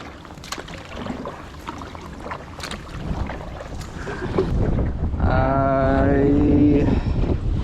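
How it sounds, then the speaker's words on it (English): Wind gusting over a lake during a winter kayaking trip, a rushing broadband roar against the microphone that swells louder toward the end, with a brief tonal whistle as it peaks. "Now you can see that wind blowing."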